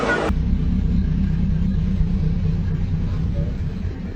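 A petrol car runs with a steady low engine rumble that stays even and fairly loud throughout, after a brief brighter noise at the very start.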